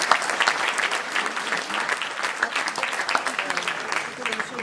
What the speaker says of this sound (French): je vous demande de l'applaudir également